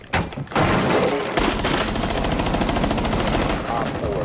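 Rapid automatic gunfire from Rainbow Six Siege, a loud, dense rattling burst that starts after a brief pause and runs steadily to the end, with game voice lines mixed underneath.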